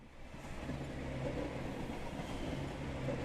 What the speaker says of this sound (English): A trolley is barreling down it in your direction.